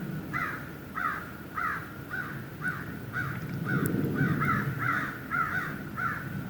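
Repeated harsh crow caws, about a dozen in a steady rhythm, moderately distant over a low outdoor rumble.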